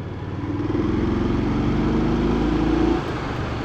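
A motorcycle on stock exhaust pipes idles and revs in a steady, moderately loud drone with a slight rise near the end before settling back.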